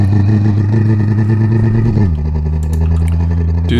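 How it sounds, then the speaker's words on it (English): Homemade car engine sound pitched down for a video game: a loud, close, steady low engine drone that drops slightly in pitch midway and keeps humming, with no talk. "So I decided to go make my own car sounds."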